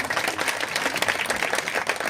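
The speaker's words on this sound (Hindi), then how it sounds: "एक बार हमारे सभी अतिथियों के लिए जोरदार ताली हो जाए" A village audience at a kirtan gathering applauds the guests with dense, steady clapping that is loud and close throughout, and no speech over it.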